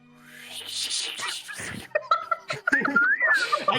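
A person imitates angry whistling and chirping with their voice, rising and falling squeaky tones broken into quick bursts, close and fairly loud.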